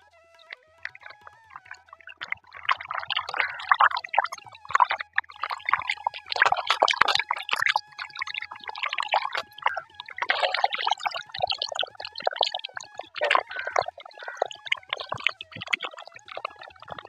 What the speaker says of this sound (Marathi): आता शेतातली आणलेली कोथिंबीर धुवून घेते